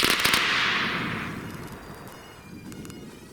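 A volley from Lee Metford Mk I rifles: one loud, sharp crack of several shots fired together, followed by a long rolling echo that fades over a few seconds, then faint clicks.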